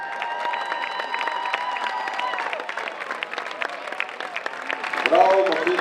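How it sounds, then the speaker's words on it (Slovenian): Crowd applause at an outdoor race for the PGD Savci volunteer fire brigade team in Ormož, a steady wash of clapping with cheering and voices mixed in, swelling near the end. "Aplavz za PGD Savci."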